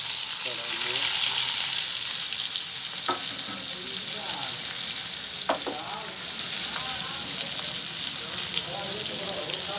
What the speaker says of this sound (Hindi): जीरा जब पक जाएगा तो प्याज और हरा मिर्च फ्राई होगा। फिर प्याज दे दिया